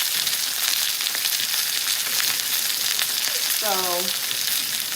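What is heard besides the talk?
seafood cooking in a hot skillet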